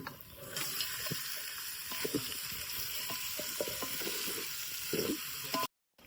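Meat dropped into a hot masala tempering for a Konkani-style curry gives a faint, steady sizzle with occasional stirring knocks, close by, before a brief drop to silence at the end.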